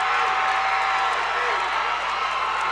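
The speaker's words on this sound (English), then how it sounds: "This crowd's going wild over there." Steady roar of a cheering crowd at an MMA fight, continuous and fairly loud, with a commentator's voice running over it.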